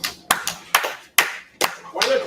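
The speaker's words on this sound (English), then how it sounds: "Why are they clapping?" Audience clapping at a bowling challenge match after a spare shot, a few sharp, scattered claps spaced across a couple of seconds, with commentators' voices nearby.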